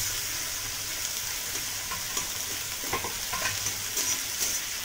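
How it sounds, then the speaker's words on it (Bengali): Grated onion, garlic and ginger sauté in a pan for an egg curry, giving a steady close sizzle with intermittent scraping stirs, and no talk. "খুব ভালো করে এটা কষিয়ে নেব।"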